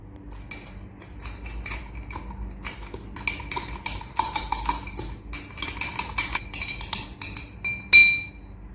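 A spoon clinks repeatedly against a glass in quick, irregular taps while stirring sugar into raw mango juice, getting busier toward the end, close and fairly loud with no talking.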